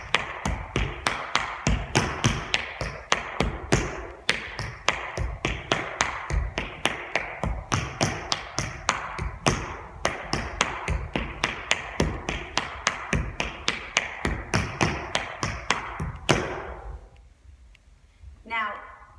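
Tap shoes working through an advanced paddle and roll exercise, a steady fast stream of sharp metallic taps and heavier stamps, close and loud, ending in a final stamp and then a brief pause.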